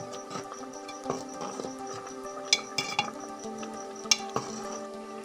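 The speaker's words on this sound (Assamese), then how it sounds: "লৰাই দিছোঁ।" Carrot halwa with nuts and raisins stirred in a pan, with soft scraping, faint sizzling and several light metallic clinks of a spoon against the pan, quiet and close with no speech.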